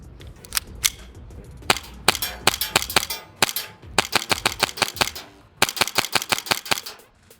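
An HPA-powered Tokyo Marui Hi-Capa airsoft pistol on an air hose fires quick, loud, close snapping shots, some single and others in fast rapid strings, with no talking.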